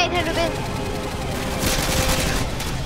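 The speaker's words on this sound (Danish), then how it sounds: "Ja, der, jeg har skudt ham." Dense gunfire from the Call of Duty Modern Warfare 2 video game, Special Ops mode, crackles in a steady loud barrage with overlapping shots throughout.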